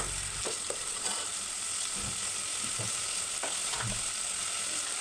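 Sliced onion and tomato pieces fry in a pan with a soft continuous sizzle while a spoon stirs them, producing a few dull scraping knocks, no speech.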